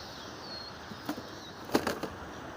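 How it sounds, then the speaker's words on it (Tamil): A sparrow's wings flap in a few quick, soft bursts, fairly faint against quiet background hiss. "எவ்வளோ அழகாக குருவி பறக்க பாருங்க"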